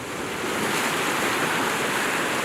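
Sea waves rolling onto Hwajinpo beach in Goseong on the East Sea, a steady broad wash of surf with some wind, continuous and fairly loud with no talking.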